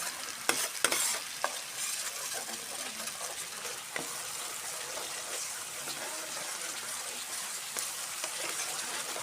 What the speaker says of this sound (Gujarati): થોડીક જ નાખશું અને મિક્સ કરી લઈશું